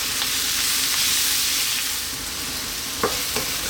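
Turmeric, chili and cumin fry in a pan for a spicy Malvani chicken coconut curry, giving a steady, close hiss of sizzling with a couple of sharp spoon scrapes near the end.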